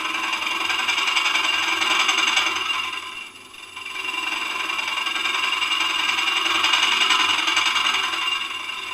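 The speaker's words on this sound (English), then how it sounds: "you can tidy that up as well with a hollowing tool" A hollowing tool takes light cuts in wood spinning on a lathe, giving a loud, continuous scraping whir with one brief dip midway.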